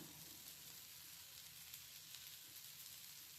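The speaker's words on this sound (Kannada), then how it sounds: "ಈ ಥರ ಫ್ರೈ ಮಾಡ್ಕೊತ ಬನ್ನಿ ಮೀಡಿಯಮ್ ಫ್ಲೇಮಲ್ಲಿ" Paneer frying in oil in a pan on a medium flame gives a steady, close, even sizzle with no talking.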